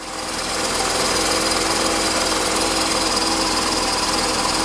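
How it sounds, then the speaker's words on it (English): The engine of a 1992 Mercedes-Benz 300E runs with the hood open, its steady, loud, buzzing idle rising at the start and then holding constant up close, with no talk. "It's a pretty peppy engine, I can tell you that."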